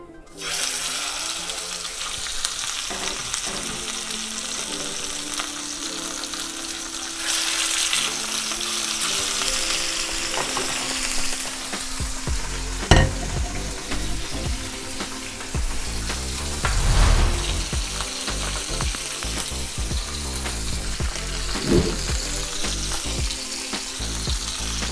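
A salmon fillet sears skin side down in a hot pan, a sustained crackling sizzle that builds and spits with occasional louder pops, close and steady for the whole stretch with no voices.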